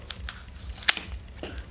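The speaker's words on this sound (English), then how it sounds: "grab your scissors and cut about a centimeter down from where the curve" Scissors cut through a party popper about a centimetre below its curve, giving a short sequence of crisp snips and crunches with one sharp, bright click in the middle, close and fairly quiet.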